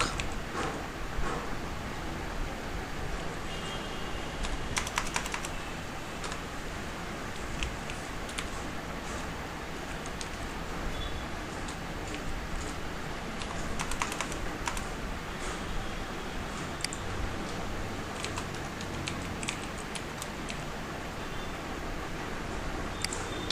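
Computer keyboard typing while writing Java code in NetBeans, soft quick key clicks in irregular bursts, faint and close, continuing steadily with no voice over it.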